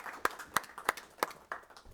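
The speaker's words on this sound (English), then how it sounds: "we need to give all these guys a round of applause" Short burst of scattered clapping from a small group at a city council meeting, five or six distinct claps, fairly faint and thin, applauding volunteers.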